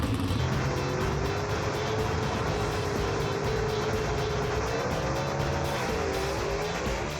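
Gasser drag race cars tear down the strip with a loud, sustained engine roar whose pitch rises and wavers across the run, dense and unbroken from start to finish.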